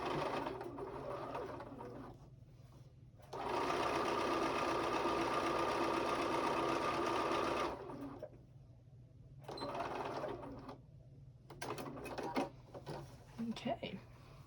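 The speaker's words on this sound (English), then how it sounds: "we're going to stitch this little seam shut here" Sewing machine stitching a small seam shut on a Grinch Christmas pouch, one long steady whirring run of stitches in the middle, framed by a person talking and a few clicks of handling before and after.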